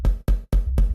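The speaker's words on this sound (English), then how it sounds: "And now it's a kick." A synthesized kick drum, shaped with saturation, reverb, a gate and EQ, hits four times in a steady rhythm, each hit loud and booming with a short gated tail.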